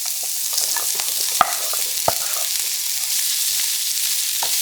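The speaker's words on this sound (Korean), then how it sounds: "양파를 넣고 볶아주세요" Onion and zucchini stir-fry in a pan, a steady bright sizzle with occasional sharp clicks of a utensil against the pan, close and clear, no voices.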